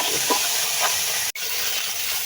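Cauliflower pieces fry lightly in hot oil, giving a loud, even sizzling hiss throughout with a brief break near the middle and faint stirring clicks early on.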